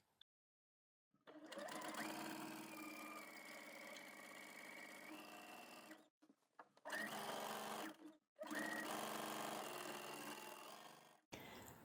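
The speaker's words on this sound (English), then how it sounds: "Stay stitch the inside collar edge on the lining piece." A sewing machine stay stitches the inside collar edge of a pea coat lining piece through a single layer of fabric, running in long steady bursts with two short pauses, close and loud with no talking.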